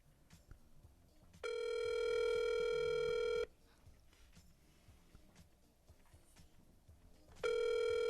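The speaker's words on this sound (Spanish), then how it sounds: "Estoy nuevamente marcando." A mobile phone calling a toll-free number gives a long, steady electronic ringing tone, then a pause with faint room noise, then the tone starts again at the end.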